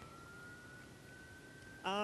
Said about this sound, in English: Looks like we've got an ambulance and a fire truck driving by us here.